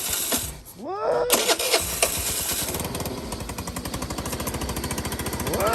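A Taotao 49cc scooter engine cranks with a few rising revs, then settles into a rapid, rattly two-stroke idle that putters steadily at close range before revving again at the end.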